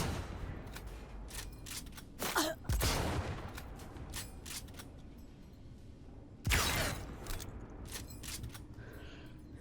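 Video game gunfire: a few sharp, loud shots spaced apart, the biggest bursts near the start and again midway, with scattered smaller clicks and bangs throughout and no talk.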